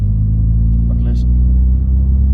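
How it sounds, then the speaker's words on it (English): A small car is driven along a narrow road, its engine and tyre rumble a constant low drone throughout while someone talks over it. "I'm just driving on this small road."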